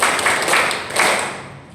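At a school parenting seminar, a group claps together in a short patterned burst of a few sharp, unified claps, close and fairly loud, with no talking over it.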